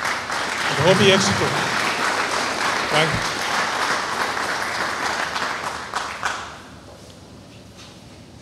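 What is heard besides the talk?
audience applause at certificate ceremony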